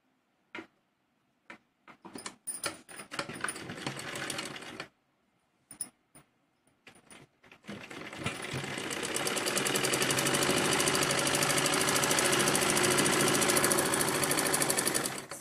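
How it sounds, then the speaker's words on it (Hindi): A sewing machine stitches around the folded waistband of men's shorts, starting with short stop-start bursts and pauses, then running in one long steady whirring pass. "इसी तरीके से हम ये पूरे में सिलाई लगाएंगे।"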